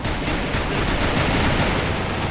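Rapid gunfire from the Free Fire video game, a dense, continuous burst of loud shots filling the whole moment with no pauses and no talk.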